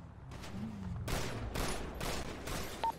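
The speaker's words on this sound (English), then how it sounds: "There's Bear shooting on the left side." Gunfire in a multiplayer British roleplay video game, several sharp bursts of shots spaced about half a second apart at moderate distance, with faint background sounds and no talk.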